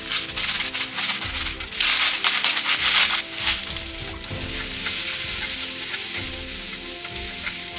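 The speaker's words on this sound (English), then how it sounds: "right now we are just like gonna saute it" Cauliflower sautés in a hot pan with a steady, close sizzle and crackle, broken by bursts of stirring and scraping and a brief surge of spitting oil.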